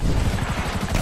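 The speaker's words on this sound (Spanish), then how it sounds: "Ah, vale, otro helicóptero." A helicopter in GTA 5 thumps overhead with rapid rotor beats over a dense, loud engine roar, close and without talk.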